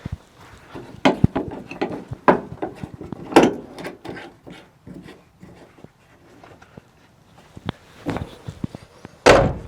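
Thuds and clunks of the rear canopy door on a BYD Shark 6 ute being shut and latched, several sharp knocks spread irregularly, loudest bang near the end.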